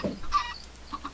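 Minecraft chickens cluck in a few short bursts, one early, a fuller squawk in the middle and two soft clucks at the end, close and moderately loud against a quiet background.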